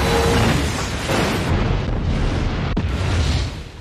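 A ship blowing up, rendered as a heavy explosion sound effect: a loud, deep rumbling blast with booming low end that rolls on continuously, followed by a sharp secondary crack near the end, with no voices.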